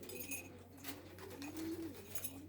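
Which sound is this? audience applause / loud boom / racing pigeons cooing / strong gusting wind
racing pigeons cooing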